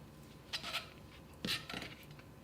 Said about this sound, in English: I'm gonna cut the wieners into slices